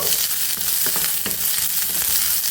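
Onions frying over high heat for a Mangalore-style chicken curry, a steady close crackling sizzle with occasional sharper pops and a stirring scrape, no voices.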